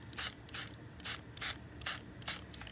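Water from a spray bottle misting a painting panel in repeated short bursts, about six sharp hissing spritzes at a steady rhythm, close and clear with no talking.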